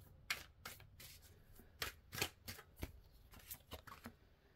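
Tarot cards shuffled by hand in a quiet room, a quick run of about a dozen crisp riffling snaps in an uneven rhythm, close and clear with no talk over them.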